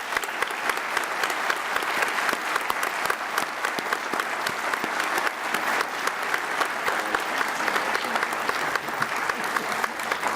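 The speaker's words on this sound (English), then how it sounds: "I hope you will give all of our faculty and staff a round of applause" A commencement audience at the 2017 UMass Law ceremony applauds faculty and staff, a dense steady ovation of many hands clapping that holds evenly throughout.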